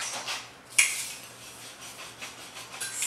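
A spoon stirs creamy aioli sauce in a bowl, with scraping clinks and one sharper metallic knock against the bowl, close and quiet.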